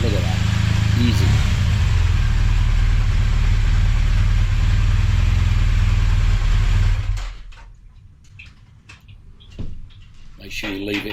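An adventure motorcycle engine runs in first gear with the clutch feathered, a loud steady rumble for about seven seconds that then drops away, leaving quieter sounds and some talk.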